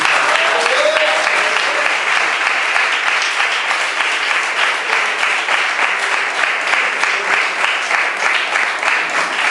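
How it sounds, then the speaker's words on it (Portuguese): A Pentecostal church congregation claps steadily and loudly for about ten seconds, a dense, continuous wash of many hands with faint voices mixed in underneath. "As palmas ao Senhor, igreja."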